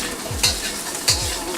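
Onions stir-frying in a hot wok for chow mein, a constant close sizzle with two quick scraping tosses of the spatula.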